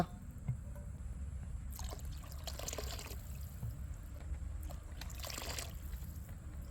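Water is poured into tamarind broth for rasam in a home kitchen, making a low, steady, continuous stream that runs alone for several seconds.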